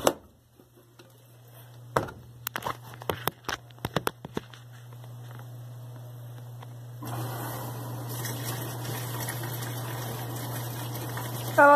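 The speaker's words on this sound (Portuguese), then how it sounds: "Deixa ela colocar um pouquinho de água no fundo pra liberar o amaciante." A Brastemp BWL11 washing machine fills its drum with water. A steady low motor hum and scattered clicks come first, then a strong, continuous rush of water pours in close by for the rest.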